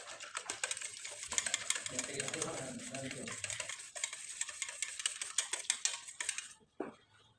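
Flattened rice (chira) being mixed with water by hand for chips gives soft, wet, rapid crackly squishing and rustling, fairly quiet and close, ending in a short pause and a faint knock.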